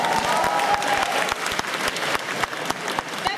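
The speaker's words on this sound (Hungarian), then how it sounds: "Tapsoljátok meg, kérlek!" An audience claps steadily at a cosplay performance contest at an autumn convention in Hungary, a dense, even wash of applause from a large crowd that carries on without a break.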